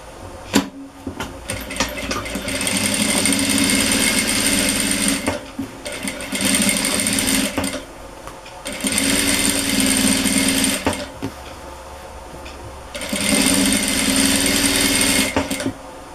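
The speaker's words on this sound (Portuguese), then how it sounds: "E vai lá na máquina e faz uma costura pé de máquina desde aqui" A sewing machine runs a straight foot-width seam along a dish towel, in three long loud bursts of steady whirring stitching separated by brief pauses, with no talk over it.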